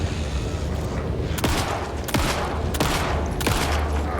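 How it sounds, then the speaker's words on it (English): Shotgun blasts in the horror video game Alan Wake II: about four loud, sharp booms spaced roughly a second apart over a dense, rumbling background of game noise. "you can't dodge the shotgun like you could dodge the rifle"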